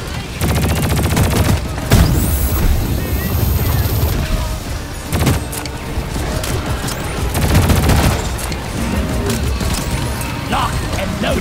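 Stubby Voltaic SMG fire in the video game Deep Rock Galactic, rapid loud bursts of automatic shots with electric crackles, repeated in clusters over busy game sound effects and explosions.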